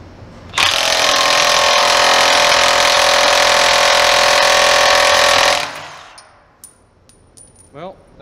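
A Dewalt DCF899 cordless impact wrench torques an M12 bolt at full speed until the bolt shears, giving about five seconds of loud, continuous hammering that stops abruptly. Faint scattered handling noises follow.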